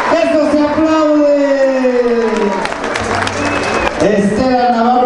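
An audience applauds and cheers steadily through a charro escaramuza presentation while an amplified announcer's voice speaks over the crowd noise.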